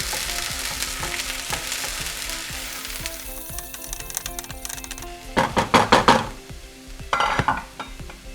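Samosa filling with ginger paste stirred into hot ghee in a pan on a pressure cooker; a continuous sizzle runs under music, broken near the end by a cluster of loud metallic spoon scrapes and clinks.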